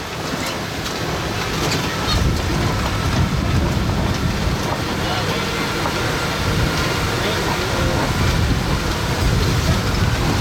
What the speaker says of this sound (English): Oh, now it's really raining.